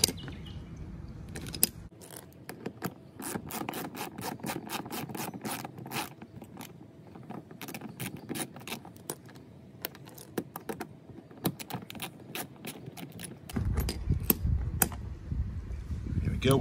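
A ratchet wrench tightens a bolt while mud flaps are fitted to a Tesla Model 3 or Y, a long run of quick, close, crisp clicks with brief pauses between strokes.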